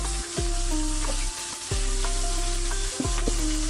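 Fish pieces frying in hot oil in a Bangladeshi home kitchen give a loud, steady, close sizzle that runs through the clip, with a repeating tonal backing underneath.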